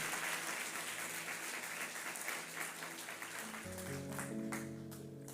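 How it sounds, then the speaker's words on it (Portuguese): A congregation applauds during a Methodist church service, with dense, sustained clapping filling the room, then organ or keyboard chords enter under the applause. "Você consegue aplaudir a esse bom Pai que nós temos"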